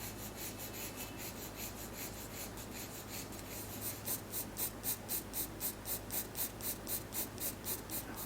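A graphite pencil shades on paper while drawing a potted plant, a faint steady scratching that turns into regular back-and-forth strokes in the second half.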